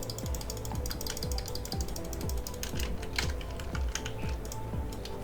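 Rapid, steady typing on a computer keyboard in a supermarket simulator game, a continuous run of close, crisp key clicks under faint background game music, with no talking.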